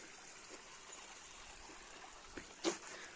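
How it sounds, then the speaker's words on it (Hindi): Spring water trickles and streams steadily from a mountain source in the Garhwali hills, a faint continuous wash with a brief louder splash near the end and no talk. "ये हुनेश्वर भगवान का स्रोत है, और इससे हम पानी पीते हैं।"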